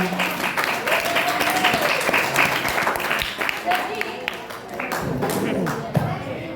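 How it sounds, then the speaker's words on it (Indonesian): An audience of junior high students at a Maulid Nabi commemoration claps on cue, dense continuous applause with scattered sharp claps, mixed with voices throughout. "Tepuk tangan dulu dong."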